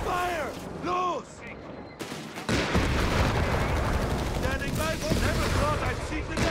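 Gunfire and explosions in the World War II strategy game Company of Heroes 3 during a 3v3 match, a dense continuous barrage of shots and blasts, loud and close, with shouted voices over it.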